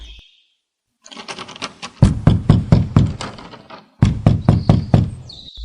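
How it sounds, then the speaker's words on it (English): Heavy knocking on a big castle door: two loud, rapid runs of hollow thuds, each about a second and a half long, separated by a brief pause, close and with no talking. "He knocks on the big door of the castle, but no one answers."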